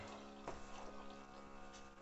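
A homemade battery-powered juice dispenser pumps and pours instant Yupi juice into a cup, giving a soft, steady liquid stream with a faint motor hum for about two seconds and no voices.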